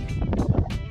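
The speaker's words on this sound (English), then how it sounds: "It's really windy." Gusty wind buffets the built-in microphone of a GoPro Hero 6 outdoors, producing a brief, close, uneven rumbling roar in quick pulses.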